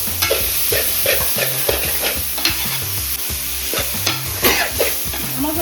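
Chicken liver with ginger-garlic paste sautéed over high flame in a pan, a loud continuous sizzle with a rhythmic run of spatula scrapes and stirs, with no voices.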